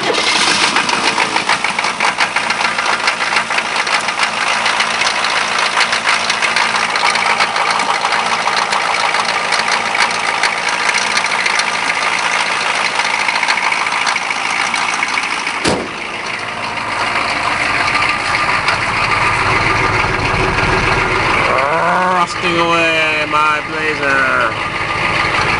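K5 Blazer engine cranked over and settling into a loud steady idle, a rough continuous drone that runs throughout, with a voice speaking near the end.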